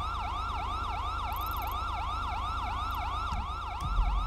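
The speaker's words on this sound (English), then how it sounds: "That siren is annoying." A loud wailing siren in a video game sweeps steadily up and down in a fast, repeating rise-and-fall pattern, continuous and close, with faint background game noise beneath it.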